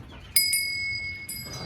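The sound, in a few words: bell worn by a sheep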